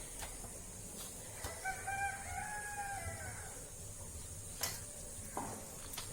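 A hen about to lay eggs gives drawn-out clucking calls in the middle of the clip, moderately close, over a steady background hiss with a few sharp knocks.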